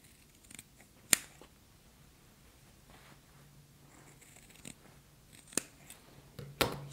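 Scissors cutting fabric for a face mask, a few crisp separate snips spread out over quiet background, close and faint, with light handling rustle between cuts.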